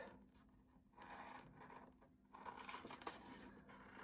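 Scissors cut out a piece of paper in a miniature flower-house book nook, giving a close, quiet series of crisp snipping and rasping strokes in short bursts, with no talking.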